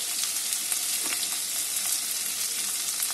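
Spice masala with chili powder and a little sugar sizzles in hot oil for a Bengali prawn yogurt curry, a steady close crackle with occasional scraping stirs and no voices.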